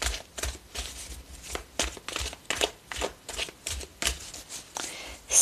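A deck of oracle cards being shuffled by hand at close range: a steady run of crisp riffling and sliding bursts, then individual cards drawn, with no voices.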